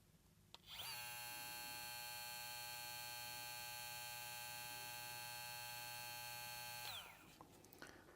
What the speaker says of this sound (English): Now let's check out the trimmer for the VGR.